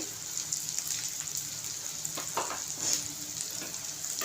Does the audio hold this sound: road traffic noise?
no